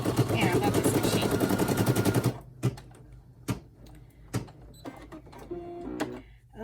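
An SE1900 embroidery machine stitching a design on a towel floated over sticky stabilizer, a fast steady needle chatter for about two seconds, then stopping and leaving scattered clicks and knocks.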